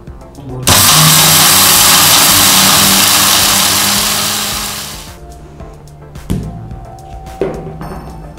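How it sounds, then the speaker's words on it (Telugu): A mixer grinder roars loud and steady as it grinds a blend of cinnamon, shahjeera, cloves and cardamom into powder for Hyderabadi chicken haleem, then cuts off, leaving brief clatters and a short whir. "ఇలా అన్నీ బాగా కలుపుకున్న తర్వాత మిక్సీలో పౌడర్ చేసుకోవాలి."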